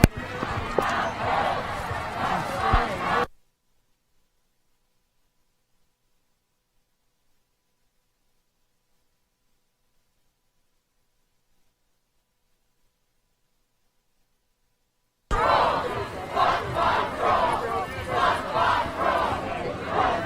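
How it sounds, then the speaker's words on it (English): A large protest crowd at a Minneapolis Breonna Taylor march chants against police union president Bob Kroll while filing into a park. The chanting is loud and rhythmic, breaks off into a long silence, then resumes. "See the massive crowd filing back into Powder Park, chanting "Fuck Bob Kroll.""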